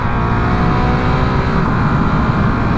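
A 2019 Honda CRF450L dual-sport motorcycle engine drones loud and steady throughout a test ride, a constant close roar with rushing wind and no talking.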